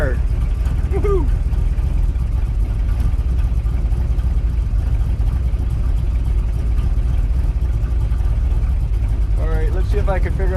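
A 1965 Ford Falcon engine runs at a steady, close idle just after its first start, with brief excited voices near the beginning and end.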